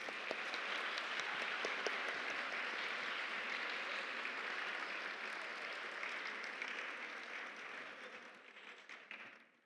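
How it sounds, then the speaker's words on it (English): Steady crowd applause from a large audience at a dance performance, sustained and dense throughout before thinning slightly at the very end. "One more round of applause, please."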